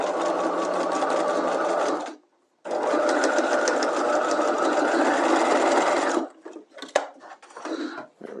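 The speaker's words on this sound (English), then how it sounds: "I'm just going to stitch this at 1/4 of an inch, this curve here, to give it a clean finish" A sewing machine stitches a quarter-inch curve in fabric with back tacks, running in two steady, buzzing bursts separated by a brief stop, then a few short, irregular stitches at the end.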